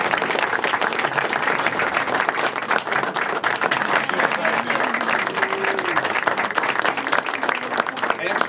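An audience at a book signing applauds for an 85-year-old woman who stands up, broad continuous clapping filling the room with a faint voice or murmur underneath.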